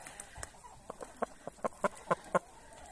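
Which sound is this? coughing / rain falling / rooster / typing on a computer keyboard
rooster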